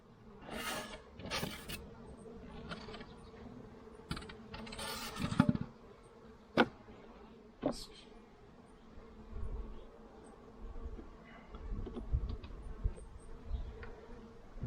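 Honeybees buzz close by at an open hive in short, uneven bursts over a quiet background, punctuated by occasional clicks and knocks of handling.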